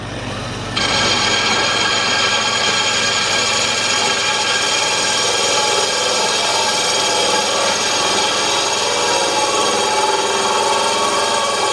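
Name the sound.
power tool bit cutting a groove through paint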